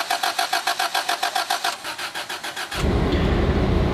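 A VW Polo engine struggles to start with a flat battery, the starter cranking in a fast, even rhythm for several seconds before the engine catches and settles into a loud, steady idle.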